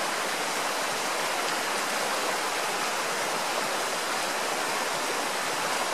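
Fast-flowing Trout Creek in high-altitude mountain country rushes steadily and loud close by, a dense unbroken wash of water with no pauses.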